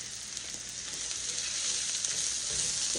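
Chopped cabbage sizzles steadily in a hot frying pan as it is stirred, a dense continuous hiss of frying with no one speaking.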